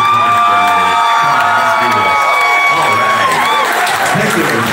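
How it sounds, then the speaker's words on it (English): A live comedy-show crowd at the Blind Pig bursts into loud, sustained cheering, whooping and applause, close and continuous throughout. "Can we get a round of applause for the Instant Pot / Electric Pressure Cooker?"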